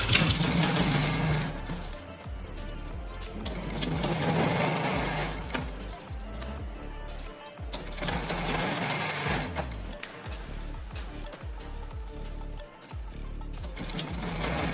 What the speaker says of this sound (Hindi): लगा के सिलाई लगा ली एक पैर की।